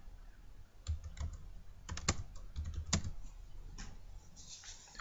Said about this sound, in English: In this case, I'm going to type in just my last name.